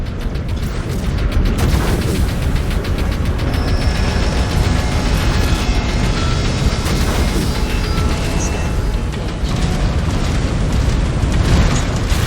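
A mech blows up in MechWarrior 5 Clans with loud, sustained booming and rumbling, dense explosive roar filling the whole stretch without pause, game combat noise underneath.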